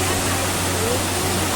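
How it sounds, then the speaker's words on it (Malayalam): Waterfall on a scooter trip in Kerala, a steady loud rush of falling water filling the whole moment with an even, unbroken roar. "എന്നാലും മോശമില്ലാത്ത രീതിയിലുള്ള കാഴ്ച സമ്മാനിക്കുന്ന ഒരു വെള്ളച്ചാട്ടം തന്നെയാണിത്"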